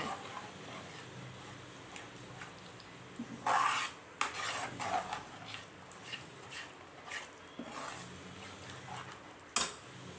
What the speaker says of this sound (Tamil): நாம் நெய்யில் வறுத்து வச்சுருக்க முந்திரியை சேர்த்துக்கோங்க சேர்த்துட்டு நல்லா கலந்து விட்டுக்கோங்க